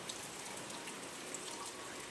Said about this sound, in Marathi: आज हलक्या हलक्या पावसाच्या सरी पडत आहेत बघा सकाळपासनं